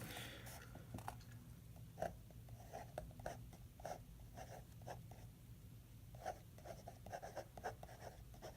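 A Pilot Capless fountain pen with a medium steel nib writes on paper, giving faint, close scratchy strokes and small taps in an irregular rhythm over a quiet background.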